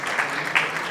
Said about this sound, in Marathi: तर एकदा स्नेहल ताईसाठी जोरदार टाळ्या.